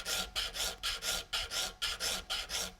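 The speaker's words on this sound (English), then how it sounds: "I'm filing this one as a rip pattern." A saw's teeth being filed in a rip pattern with a Vallorbe second-cut precision saw file, a steady rasping rhythm of about nine even strokes, close and clear with no talk.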